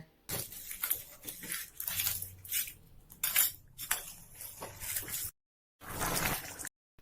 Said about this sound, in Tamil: சேர்த்து நல்லா ஒரு கிளறி மூடி வச்சுருங்க.